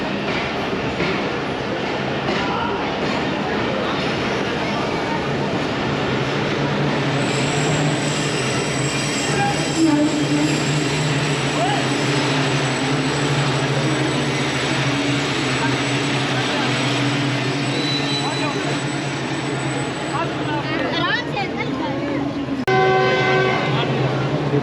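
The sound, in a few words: Tezgam passenger train at Jhelum railway station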